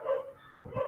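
Several dogs barking at a distance in two short bursts, fairly faint, with a quieter pause between them.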